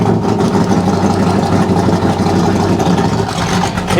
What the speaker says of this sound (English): He ran a 2-barrel Holly last year and it ran fine, but now he's got the quadrojet on it. The top end is just breaking up bad.